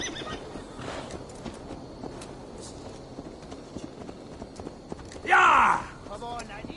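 A horse in a video game whinnies once loudly near the end, while faint hoofbeats clip-clop through the background and game voices talk quietly underneath.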